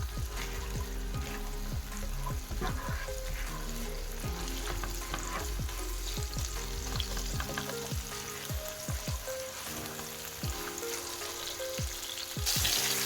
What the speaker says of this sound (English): add in our chopped garlic. Fry that off for a couple of minutes, and all in medium heat